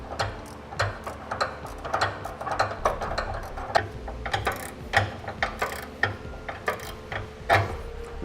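A 13 mm ratchet snugging down a locking flange nut during a gooseneck hitch install on a 2010 Chevrolet Silverado, giving a steady run of close, crisp pawl clicks in repeated short strokes with no talk.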